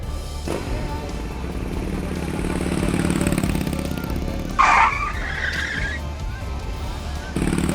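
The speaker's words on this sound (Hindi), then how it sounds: "लोगों ने मना किया, लेकिन फिर भी बाढ़ के पानी में बाइक बढ़ा दी।" A motorbike pushes through fast flood water in Nainital, its engine droning steadily under a loud, continuous rush of water, with a brief sharp splash or rev midway and faint voices in the background.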